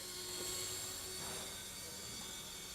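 A Walkera x100 RC helicopter flies, its small motor and rotors giving a steady, fairly close high-pitched whine that holds throughout, with a slight surge in the middle.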